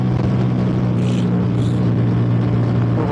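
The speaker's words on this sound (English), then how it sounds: "I love the quick shifter on here." A 2023 Ducati Diavel V4 roars steadily on a cold freeway with heavy wind rush, and two brief quick-shifter gear changes interrupt the close, loud engine drone in quick succession.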